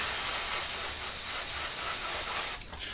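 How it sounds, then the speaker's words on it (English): A steady, close airbrush hiss sprays black paint onto the instrument panel of a 1/48 Academy Raptor model kit continuously, then sputters and breaks up briefly near the end. "I'm just going to spray the instrument panel black"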